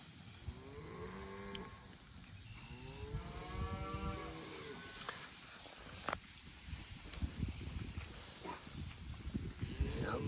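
A herd of cows and calves bellows in a pasture, several overlapping moos rising and falling, some near and some farther off, over steady outdoor rustling with a few knocks.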